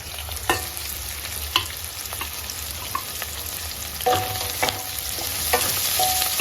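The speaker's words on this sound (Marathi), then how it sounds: "हे सर्व आपल्याला मिडियम गॅसवरती भाजून घ्यायचं आहे" Cashews, chili, garlic and ginger roast with lightly browned onion in a pan over medium heat, giving a steady close sizzle broken by sharp spatula scrapes and clicks against the pan.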